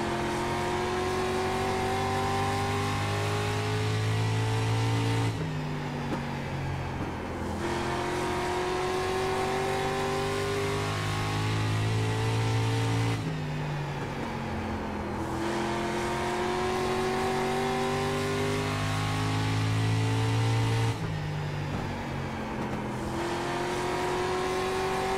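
A street stock race car engine in iRacing laps the oval at Southern National Motorsports Park, droning loud and steady while its pitch rises and falls in a repeating cycle each lap.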